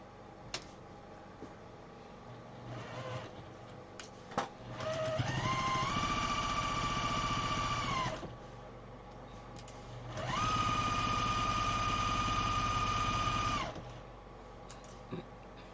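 A sewing machine stitching quilt-as-you-go quilt pieces runs in two steady whirring stretches of a few seconds each, with soft ticks and handling noises in the pauses between.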